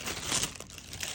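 A paper sewing pattern piece laid onto fabric gives a brief close crinkle and rustle, one soft burst that fades quickly.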